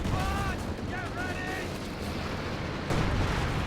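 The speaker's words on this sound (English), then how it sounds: "Artillery is landing." Artillery lands in a Company of Heroes 2 4v4 battle, a steady, heavy roar of distant impacts and gunfire with a voice briefly talking over it.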